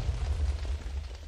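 Rumbling, continuous explosions from summoned relic weapons in the game Minecraft (FTB Beyond modpack), a dense low boom sustained for over a second with crackly bursts on top and no talking.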